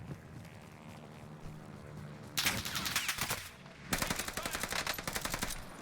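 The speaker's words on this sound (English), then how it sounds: "Shooting at me." Automatic gunfire in a first-person shooter video game aimed at the player: quieter shots at first, then two loud sustained bursts of rapid fire in quick rhythmic volleys, close and harsh, separated by a brief pause.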